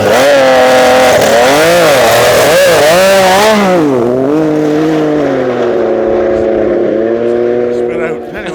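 Drag racing sled on ice with an overheated engine, revving loudly in rising and falling whines before settling into a steadier high drone, close up with no voices.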